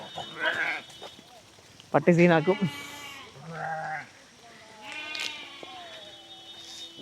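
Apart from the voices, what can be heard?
herd of goats bleating in village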